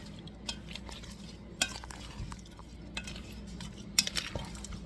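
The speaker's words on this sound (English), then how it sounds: "we are going to mix all of that together" Shrimp being stirred together with seasoning and soy sauce in a bowl for a stir-fry marinade, giving soft wet mixing and scattered utensil clinks against the dish at close range, with no talking.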